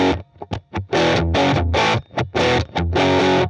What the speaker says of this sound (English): this is what it sounds like if I run my guitar into the Benson Preamp